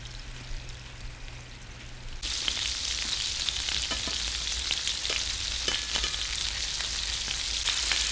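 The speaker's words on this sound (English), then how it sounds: "Right now, I don't mind if they're crowded on one side because the sear is already happening" Breakfast sausage patties sear in a crowded pan with a steady, close sizzle that jumps louder partway through, dotted with small pops and crackles; no speech.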